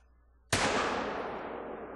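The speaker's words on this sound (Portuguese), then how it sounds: "Fazer o disparo nele aqui com 7 mm." A single sharp 7 mm rifle shot in the hunting game theHunter: Call of the Wild cracks out loud and close, then rolls off in a long fading echo.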